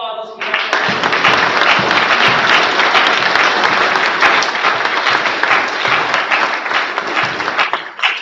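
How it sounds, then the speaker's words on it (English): A crowd claps at a Scout troop Court of Honor, a loud, sustained round of applause that holds at full strength for several seconds and tapers slightly at the end. "one last round of applause"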